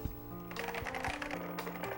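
Fast, clacky typing on an old 1980s Mac keyboard, a quick run of close, crisp key strikes with rattling, uneven rhythm.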